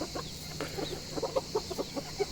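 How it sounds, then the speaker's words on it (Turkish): Chickens and roosters cluck in short, scattered bursts, several birds close by over a faint steady hum. "Bu kadar çok horoz."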